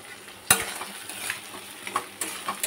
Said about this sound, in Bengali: এবার একটু কষে নিচ্ছি।